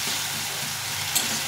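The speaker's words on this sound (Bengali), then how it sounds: "হলুদ গুঁড়ো দিয়ে এটাকে ভালো করে একটু ভেজে নেব।" Tomato and onion frying in a pan with turmeric powder, giving a close, steady, hissing sizzle with a faint stir near the end.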